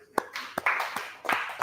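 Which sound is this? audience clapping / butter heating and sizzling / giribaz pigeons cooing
audience clapping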